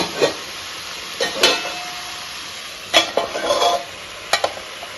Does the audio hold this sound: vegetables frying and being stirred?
yes